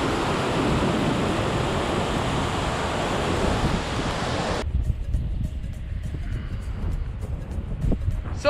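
A rushing mountain river in Norway roars as a steady broadband wash, loud and close, then drops abruptly to a thinner, gusty flow.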